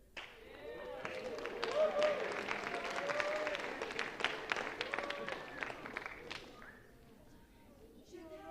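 Audience applause in a school chapel during an awards ceremony: a dense, steady patter of many hands clapping for several seconds, swelling and then thinning out, with voices talking over it.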